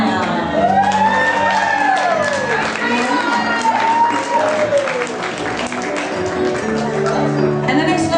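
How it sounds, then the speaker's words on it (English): Loud audience cheering and applause as a woman is welcomed on stage, sustained clapping mixed with whoops, shouts and high-pitched yells, dense and continuous throughout. "please bring in with a big cheer Brandy McIntyre."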